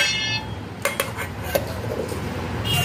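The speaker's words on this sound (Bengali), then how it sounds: "এখন আমি টিফিন বাটি ঢাকনাটা ঢেকে নেব।" A steel lid clinks onto a steel tiffin box holding prawns and chillies, with a few sharp metallic taps and rattles in quick succession amid quiet kitchen noise.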